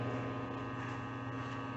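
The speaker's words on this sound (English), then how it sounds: "I'm going to vacuum seal this one and see how it does" A vacuum sealer runs on a homemade food storage bag, giving a steady, even motor drone with a low hum throughout and no speech.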